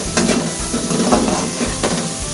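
Chopped tomatoes are stirred into a pot of chicken handi masala with yogurt, giving a steady sizzle and wet churning with a few soft scrapes of the spoon against the pan, close and continuous.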